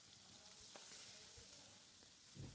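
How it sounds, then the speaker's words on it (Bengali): Chopped onion frying in oil left over from frying rohu fish, a constant soft sizzle and hiss with occasional stirring bumps from the pan. "আমি ওই তেলেই দিয়ে দিচ্ছি পরিমাণ মতো পেঁয়াজ কুচি"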